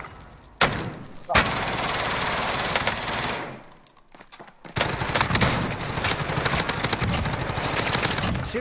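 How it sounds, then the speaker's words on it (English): Dense, loud gunfire in the Warzone video game, with a shotgun fired at point blank among sustained bursts of automatic fire and booming impacts, while players talk over the action. "shooting a point blank with a shotgun"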